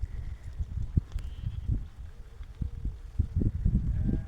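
New goats in a spring herd on a drizzly, rainy day give short, low bleats, faint and at middle distance, scattered over rustling and outdoor background noise.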